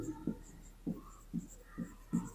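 Pen writing by hand on paper while working a polynomial problem, heard as five or six soft, scratchy strokes spaced roughly evenly and close by, alone with no talking.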